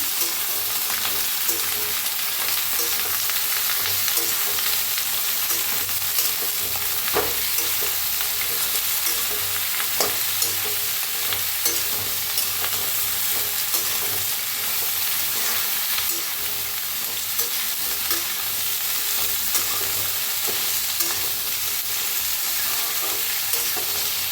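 Jackfruit vegetable stir-frying and roasting in hot oil with masala in a pan: a steady, close sizzle runs throughout, with scraping stirs and occasional crackles and no talking.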